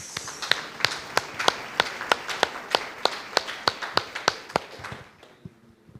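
A church congregation claps in a steady, even rhythm, each sharp clap close and distinct at about three per second, fading out near the end as a low tone lingers.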